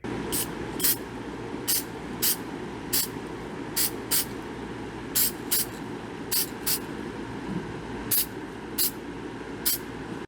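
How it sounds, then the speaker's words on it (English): Short hissing bursts of aerosol silicone release agent sprayed during silicone mold making, about a dozen quick puffs in an irregular rhythm over a low background hum, close by. "to spray a little bit of silicone release agent on there at this stage"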